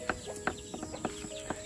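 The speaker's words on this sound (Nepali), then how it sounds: "कुखुराहरू" Village chickens cluck nearby in a string of short, repeated clucks and calls, fairly close and clear, with a faint high whine beneath.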